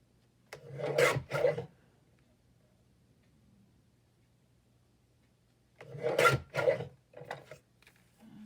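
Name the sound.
cutting paper strips for a Christmas journal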